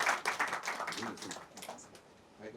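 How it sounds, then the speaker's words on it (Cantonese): Scattered clapping rises at a short-film festival award ceremony, a handful of hands at moderate distance, tapering into thinner claps while voices murmur and speech overlaps. "掌聲歡迎"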